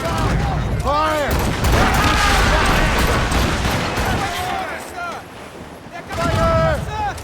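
Ship cannons firing in the video game Assassin's Creed Rogue, heavy booming volleys rolling out in bursts over ocean and battle noise, with shouted voices mixed in among the blasts.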